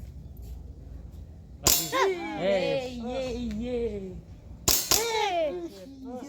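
Airsoft pistol shots striking a steel target at a school IPSC reaction-shooting practice: two sharp metallic pings a few seconds apart, each with a ringing tail, mixed with nearby talk.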